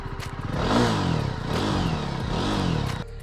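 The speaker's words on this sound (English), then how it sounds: "And it is a twin exhaust setup which sounds like this." Jawa 42 motorcycle with a twin exhaust setup, revving in repeated rising and falling swells, loud and close, with a throaty mid-range note that drops away at the end.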